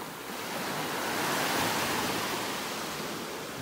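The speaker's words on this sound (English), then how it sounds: "Saw some waves rippling out here." Steady ocean surf washes onto the beach at North Naples, Florida, a broad continuous hiss of breaking waves that swells slightly midway, with no voices.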